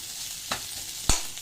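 A ladle knocks against a pan while breaking up a block of frozen all-purpose gravy over heat, giving two sharp clacks about half a second apart over a soft, steady sizzle.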